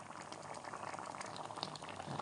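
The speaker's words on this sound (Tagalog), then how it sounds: "Kulo ang munggo." A pot of mung beans bubbles at a rolling boil, with a dense, steady stream of small pops and gurgles close by and no talking.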